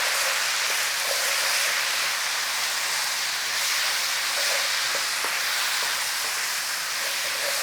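Sauce poured into a sausage fajita mix makes it sizzle loudly and continuously in the pan, a broad, steady hiss with no talking.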